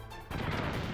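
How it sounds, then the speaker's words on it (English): A grenade blast in the Metal Gear Solid video game hits suddenly after a brief quieter lead-in, then a loud, broad burst of noise rumbles on to the end of the second. "Oh, grenade!"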